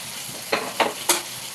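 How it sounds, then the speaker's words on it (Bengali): Ground cumin, coriander, Kashmiri chilli powder and turmeric frying in a pan while being stirred, with a steady close sizzle broken by three quick scraping strokes of a spatula. "এবার মশলাটাকে ভালো করে কষিয়ে নিতে হবে।"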